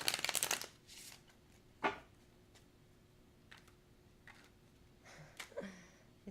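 A tarot card deck being shuffled up close, with a loud riffling burst at the start, then a sharp snap and scattered lighter card flicks and taps through the rest, no talking.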